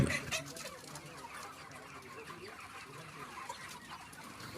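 Broiler chickens cluck and a bird calls faintly in a noisy outdoor poultry farm, with steady background hiss and scattered soft sounds throughout.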